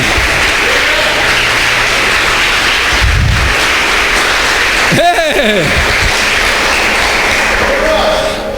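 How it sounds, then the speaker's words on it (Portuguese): A church congregation applauding loudly and continuously, dense clapping filling the space, with voices calling out over it partway through. "aplaude bem forte o nome do Senhor"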